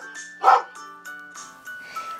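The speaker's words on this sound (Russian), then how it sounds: "Пеппа, это что, собачка?" A cartoon dog gives a single bright bark, followed by a few softer yips, in an animated children's show about a pig family. The sounds are close and fairly clear, with light background tones.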